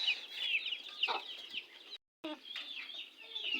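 A hen sitting on eggs clucking close by in repeated soft bursts, with a brief silent gap partway through.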